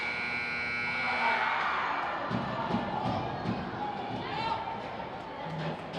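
At a girls' high school ice hockey game, a long, loud electronic buzzer sounds the end of the period and holds steady over crowd noise and rink sounds. A commentator talks throughout.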